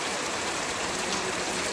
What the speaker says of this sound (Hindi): देखिए बारिश